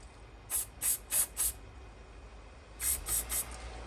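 Aerosol cleaner is blown up through a reloading die body, heard as close, crisp hissing spurts: four quick bursts, a pause, then three more.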